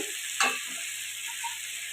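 Salt, turmeric, cumin and black pepper powders fry in a pan for a thin rohu fish curry with green banana, potato and drumsticks, giving a steady sizzle with one brief scrape of stirring near the start.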